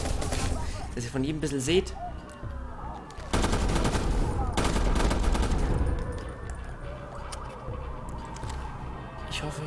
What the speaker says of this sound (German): Hier, die Chrome. Mit der schießen wir auch nochmal.